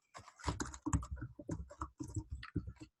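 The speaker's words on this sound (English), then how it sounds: "double click afterward by and just type his name in" Quick typing on a computer keyboard, a close, steady run of key clicks with brief pauses, typing a name while designing a book cover.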